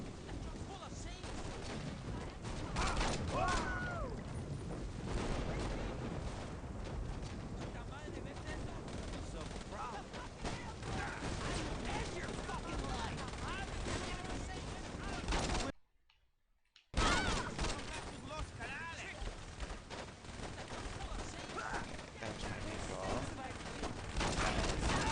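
Continuous gunfire in the Saints Row video game, dense rapid shots and heavy blasts running throughout with one short silent break, while someone talks over much of it.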